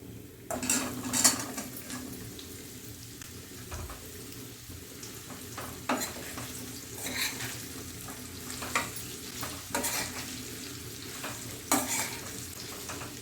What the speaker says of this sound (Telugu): ఇవి పోపులో వేసేస్తున్నా